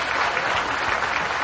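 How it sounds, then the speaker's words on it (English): An audience applauds at a Maryland can manufacturing company event, a steady dense wash of clapping that holds evenly at moderate loudness throughout. "Let's give a round of applause for the youth staff."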